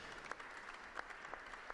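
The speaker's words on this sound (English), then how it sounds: "And warmly welcomed with a round of applause" Welcoming applause from an audience in the Vatican's Hall of Benediction as the Pope walks to his throne at the papal Christmas greetings to the Roman Curia, a steady, fairly faint wash of many hands clapping with a few sharper claps.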